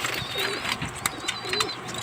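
Pigeons cooing close by, soft throaty coos repeating over a couple of seconds with faint rustling.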